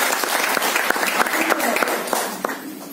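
Audience clapping during a talk at a DXN business meeting, a steady, fairly dense patter of hand claps filling the room, with some voices mixed underneath.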